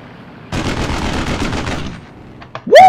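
A rapid burst of aircraft cannon fire in the video game Aces High 3 rattles loudly for about a second and a half, followed by a couple of sharp pops and a rising whoosh.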